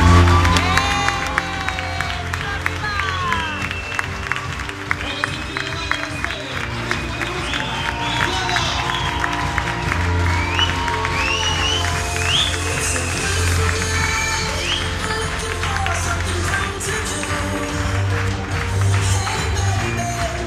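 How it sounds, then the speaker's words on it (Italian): Wedding guests at an Italian reception applaud the newlyweds in a steady, continuous roar of clapping and cheering over background music, with whoops and voices mixed in throughout. "grande applauso, gli sposi!"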